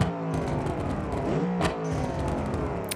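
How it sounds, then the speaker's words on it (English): A budget car with a 5-speed gearbox and its exhaust removed revs loudly in the BeamNG.Drive driving game, the engine note rising and falling with a sharp rev flare midway and another burst near the end. "Car is still loud, but it sounds great."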